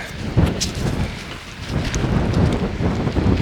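Heavy driving rain pelts a four-season ultralight tent's rain cover in a dense, continuous patter, loud and close, with gusts swelling the drumming on the fabric.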